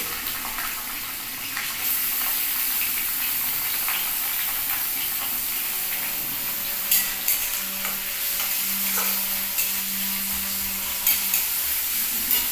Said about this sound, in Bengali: এবার দেব পেঁয়াজ পেঁয়াজটা একটু বার করে ভেজে নিই